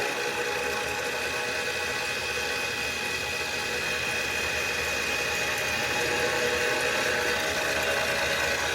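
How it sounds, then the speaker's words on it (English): A steady, loud mechanical whir runs throughout as a machine center drills the exhaust hole in a part for a PMC IMP diesel model airplane engine, with no talking. "Alright, and now we're going to center drill for the exhaust hole."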